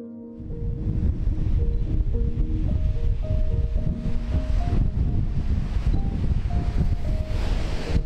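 Big sea waves at Cape Greco, Cyprus, crash and roar continuously with constant loud surf and buffeting wind, and a faint tonal line runs underneath.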